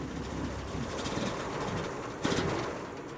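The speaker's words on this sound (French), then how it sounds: "Ça fait cinq fois qu'il cale" A cartoon motor rumbles in a steady, moderately loud rattling drone with a short surge near the end, with no voices over it.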